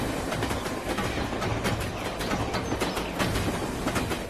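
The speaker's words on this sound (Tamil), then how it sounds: "ஏதோ ட்ரெயின் போற சவுண்ட் கேக்குதுங்க" A passing train rumbles and clatters continuously over a phone call, a steady wash of rail noise with faint rhythmic clicks and no voices.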